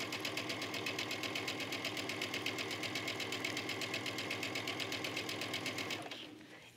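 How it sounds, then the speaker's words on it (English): A sewing machine runs steadily, stitching through a thick trench coat collar. Its rapid, even mechanical clatter is loud and close and goes on without a break for about six seconds, then stops abruptly. "just keep stitching away"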